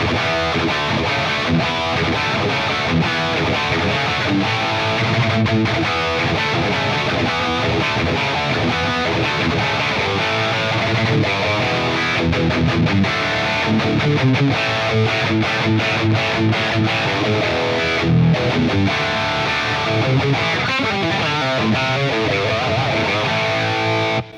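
An electric guitar through a Jeff Loomis Devil's Triad overdrive pedal and Archon 50 amp plays a continuous run of heavily overdriven, distorted riffs and chords, loud and dense throughout.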